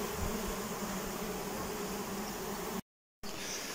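Honey bees flying out of a swarm trap make a dense, continuous buzzing hum close by, with one brief dropout near the end.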